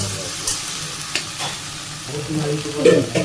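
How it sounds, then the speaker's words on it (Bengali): Okra frying in hot oil crackles and sizzles close by, with stirring scrapes in the pan and the bubbling growing louder near the end. "তেলও গরম হয়ে গেছে, ঢেঁড়সগুলো দিয়ে দিলাম।"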